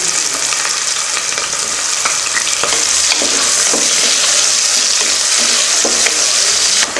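Onions and green chilies fry in hot oil in a pressure cooker, a loud continuous sizzle with scraping stirs and occasional clicks of a spoon against the metal.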